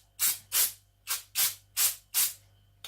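Six short aerosol bursts of lubricant sprayed onto airsoft VSR-clone rifle parts, each a sharp hiss lasting about a quarter second, evenly spaced and close, with quiet gaps and a low hum between.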